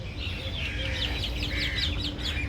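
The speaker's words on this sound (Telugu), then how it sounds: "బ్యాక్గ్రౌండ్ అంటున్నా కదా ఎంత బాగుందో, కాకులు పక్షులు" Crows and other birds call repeatedly on an island in Sharjah, UAE, their chirps and caws rising over a steady low outdoor rumble, fairly close and continuous.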